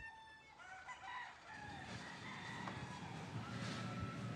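Chickens cluck and a rooster crows repeatedly at a cargo warehouse compound, several birds calling in overlapping bursts over a steady background rumble.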